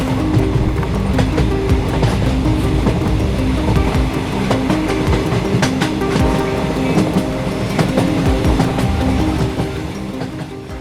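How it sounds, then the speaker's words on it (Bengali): The Sahebganj–Howrah Down Intercity Express pulls onto platform 2 at Bolpur Shantiniketan station, a loud, continuous rumble with clattering wheels and rattling cars that eases off near the end. "আর এই 2 নম্বর প্ল্যাটফর্মে কিন্তু ট্রেন প্রবেশ করলো Sahebganj two Howrah down Howrah intercity express"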